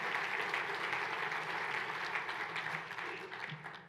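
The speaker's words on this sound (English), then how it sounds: "You can applaud for Marianne Scully." An audience at an organisation's annual meeting claps steadily, a dense, even patter of many hands at moderate distance that tapers slightly toward the end.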